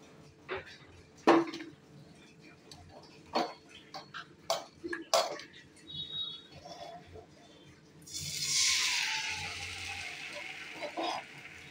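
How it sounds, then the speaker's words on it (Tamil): Appam batter is poured and swirled in an oiled appam pan: scattered metallic taps and clinks first, then a loud, sustained sizzling hiss that swells and fades as the batter hits the hot pan. No one speaks. "இப்போ வந்து நம்ம ஆப்பம் ஊற்றலாம்."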